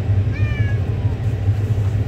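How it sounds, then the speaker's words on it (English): An adopted stray cat gives a single clear meow, close and fairly loud, over a steady low rumbling background. "so I have this stray cat that I adopted"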